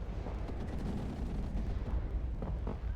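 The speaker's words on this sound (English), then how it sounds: "You can see us doing strafing runs." Aircraft strafing-run gunfire in the wargame WARNO: a steady, muffled rumble of distant rapid fire and blasts, moderately quiet and continuous, with no voice.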